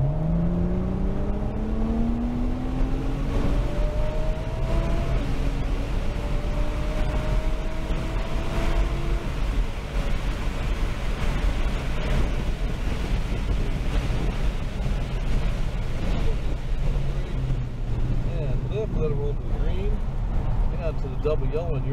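Nissan GT-R accelerating on a track, engine note sweeping up through several gear changes under heavy wind buffeting, with a voice talking over it.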